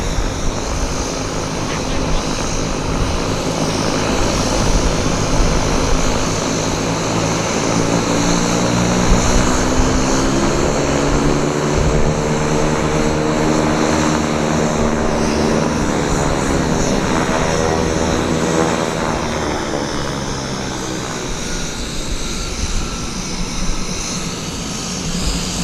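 Snowbirds aerobatic team aircraft fly over Vancouver Airport, a loud sustained propeller-engine roar that swells and shifts in pitch as the planes pass, with faint voices underneath.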